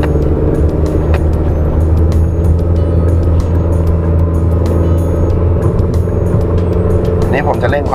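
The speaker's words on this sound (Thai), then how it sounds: "นี่ผมจะเร่งความเร็วถึง80กิโลเมตรต่อชั่วโมงนะครับ" A car with a CVT transmission accelerates, giving a loud, steady engine drone with a constant pitch and road noise throughout, with someone talking over it.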